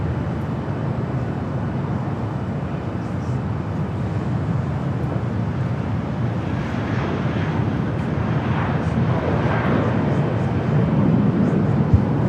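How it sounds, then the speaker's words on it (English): A Southwest Airlines Boeing 737-700 at Los Angeles International Airport gives off a broad, steady jet roar that slowly builds in loudness, heard from a distance outdoors. "Southwest Airlines Flight 408, a 737-700"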